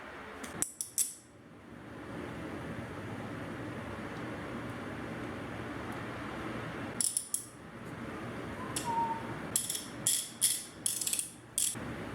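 Clamps are tightened on glued cherry and maple wood planters at night. Short bursts of ratcheting clicks come in clusters near the start, in the middle and toward the end, separated by quiet room hiss.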